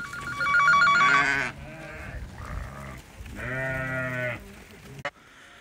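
Sheep and lambs bleating near a shepherd's flock, two loud wavering bleats with a quieter call between, close and alone, ending in a sharp click.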